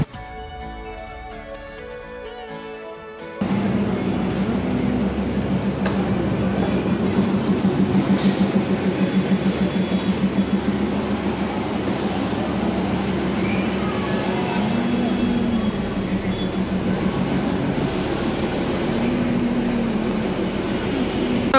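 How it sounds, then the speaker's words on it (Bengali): Darjeeling toy train pulling into Ghum station, a steady rumbling run with faint clatter and background station bustle, loud and close after a quieter opening, with voices murmuring in the crowd. "ঘুমে এক্ষুনি একটা টয় ট্রেন ঢুকলো, এই যে টয় ট্রেনটা দেখতে পাচ্ছ স্টেশনে।"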